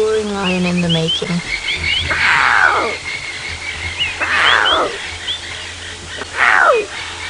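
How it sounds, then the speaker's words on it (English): A young lion cub lets out three strained, rising-and-falling roaring calls during a sunrise safari drive. Birds chirp in the background, and a voice is heard briefly at the start. "Tiny roaring lion in the making."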